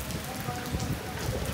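Steady rain falling outside during a stormy spell, a continuous close hiss of drops on surfaces filling the short stretch before cutting off abruptly.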